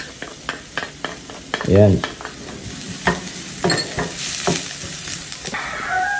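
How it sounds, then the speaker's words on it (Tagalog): Mushrooms sauté with garlic and onion in a pan while the filling for a beef Wellington is cooked. A close sizzle sits under repeated stirring scrapes and taps, and a short spoken word and a brief squeak break in. "Ngayon, sautein na natin yung ating mushroom."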